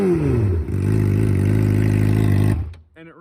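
A rebuilt Yamaha R6 sport motorcycle runs without a muffler, spinning up and then settling into a loud, raw, buzzing idle close by before cutting off abruptly.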